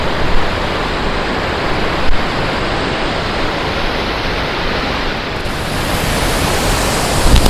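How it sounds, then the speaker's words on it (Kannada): Kanoor (Devkar) waterfall near Yellapur, Karnataka roars as a loud, dense, unbroken rush of falling water, steady throughout, with no voices. "ಈ ಕಾನೂರು ಜಲಪಾತ, ದೇವಕಾರ್ ಜಲಪಾತ ಏನಿದೆ ಅಲ್ಲ, ನೋಡ್ಲಿಕ್ಕೆ ಎಷ್ಟು ಚಂದ ಕಾಣ್ತದೆ"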